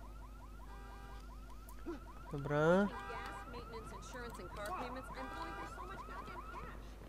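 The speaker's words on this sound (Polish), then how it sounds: "A tu mogę przy trzech samochodach auto alarm." A car alarm going off in the video game Watch Dogs, a repeating electronic warbling wail that sounds fairly close and steady while someone talks briefly over it.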